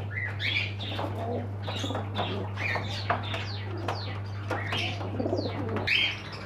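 Pigeons in a Medinipur bird and aquarium shop, with soft coos mixed among many sharp bird chirps and wing flutters, steady and close under a constant low electrical hum, no talking.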